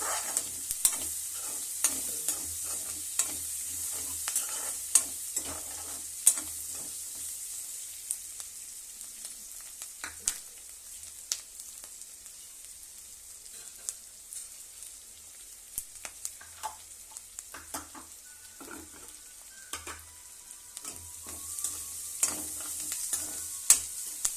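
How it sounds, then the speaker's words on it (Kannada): Fennel seeds fry in a pan for a paneer kurma masala, giving a soft, steady sizzle broken by frequent light scraping clicks as they are stirred, with no one talking. "ಸೋಂಕಾಳು ಚೆನ್ನಾಗಿ ಫ್ರೈ ಆಗ್ಬೇಕ್ರಿ"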